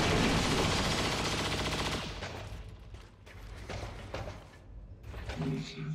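Cannon fire in XCOM 2: heavy booming gunfire and explosive game sounds in a loud, continuous barrage, with blasts and rumbles fading and returning, close and dense.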